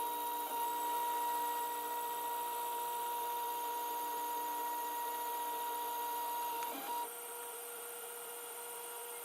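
3D printer with an E3D V6 hotend printing blue PLA at 200 on the nozzle and 60 on the bed, a steady whirring hum of stepper motors and fans with a brief shift near the end, fairly quiet.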